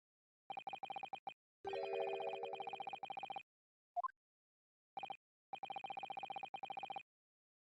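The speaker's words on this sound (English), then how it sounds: "Anyone with a brain, that would be blatantly apparent on listening to the music box for a few seconds." Music box tones from the Ace Attorney video game play as clean, repeating electronic beeps in short bursts separated by brief silences, including one longer sustained chord, fairly quiet throughout with no one speaking.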